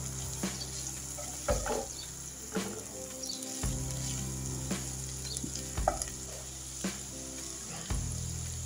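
Green chilies fry in a hot pan for chicken and vegetable fried rice, giving a steady close sizzle marked by periodic clanks and scrapes of stirring, with one brief pause in the hiss.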